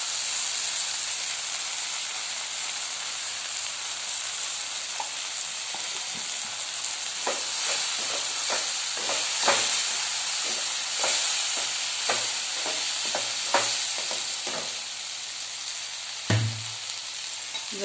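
Tomatoes and okra with green chillies fry in a pan, a steady close sizzle broken by a run of sharp spoon-scraping clicks and stirring taps, with no talk.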